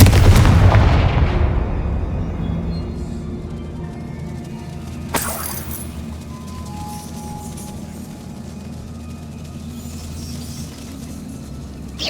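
Confringo spell explosion in the Hogwarts Legacy video game, a loud burst that opens the clip and fades into a long rumbling decay, followed by a sharp crack and low ambient hum.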